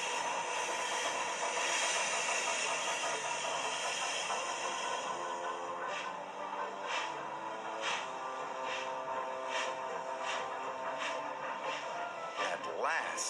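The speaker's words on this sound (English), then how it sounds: "At last, the express train started to move." A steam express train hisses and chuffs under a narrator's voice, with a run of evenly spaced puffs quickening slightly as the engine starts to move, amid rumbling rail noise.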